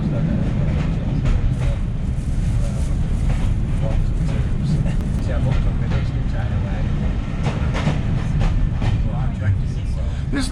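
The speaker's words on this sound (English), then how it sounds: "It is proper railway sounds, isn't it? It's not continuously welded track and with an old Mark 1 coach." Old Mark 1 coach running over jointed, non-welded track at a heritage diesel gala, a steady loud rumble carrying repeated rhythmic clicks throughout, with faint voices underneath.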